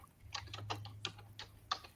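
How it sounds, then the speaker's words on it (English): Quiet tapping on a computer keyboard during an online chat, a run of irregular clicky keystrokes with brief pauses, close by and with no talking over it. "I'm typing it in the chat"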